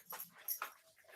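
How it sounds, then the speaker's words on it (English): A dog close by gives a few short yips and whimpers in a quick burst of just over a second, fairly faint, with no talking. "my dog's going crazy"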